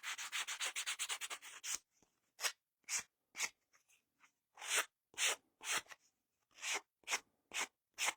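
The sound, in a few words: scraping and scuffing the brim of a craft hat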